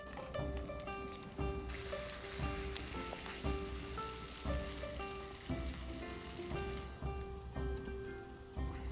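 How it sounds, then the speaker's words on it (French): Raclette cheese sizzles and fries steadily in a pan, a dense crackling hiss that holds throughout at moderate loudness with some faint tonal ringing underneath, and no voices. "une petite raclette dans ma poêle. Allez, petite raclette fondue"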